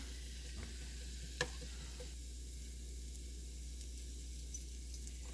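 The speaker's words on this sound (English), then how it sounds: "Okay, we've got the garlic boiling here a little bit." Garlic sizzling gently in a preheated pan, a steady soft frying hiss with a few faint clicks and stirring sounds, quiet and continuous with no talking.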